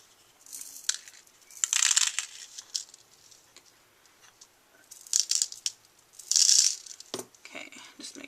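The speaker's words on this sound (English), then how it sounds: "I'm putting in a little bit of the clear beads and a few of the silver ones" Clear and silver beads poured into a handmade rattle, heard as several separate bright, clicking rattles and trickles with quiet gaps between them, near and fairly loud.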